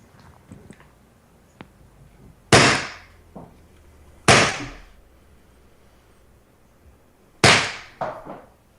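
Three sharp gunshots crack out at irregular intervals close to the microphone. Each blast is followed by a brief decaying tail, and a quick fourth report comes right after the last shot. Faint ticks and small knocks fill the gaps between them.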